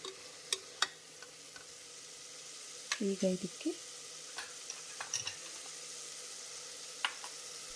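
Mutton keema fries in oil for biryani with a faint, low sizzle, punctuated by scattered light clicks and a brief muffled sound midway.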